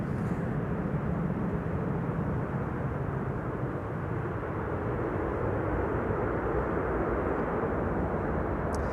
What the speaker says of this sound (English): This was Delta Airlines Flight 144, having arrived from Seattle, Washington